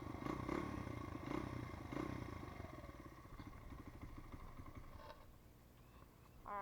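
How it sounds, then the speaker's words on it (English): A 2005 Honda CRF100F dirt bike engine idles steadily after a cold start, a close, continuous putter with a fast firing rhythm and a few slight surges, running alone without talk. "that was my Honda CRF100 cold start"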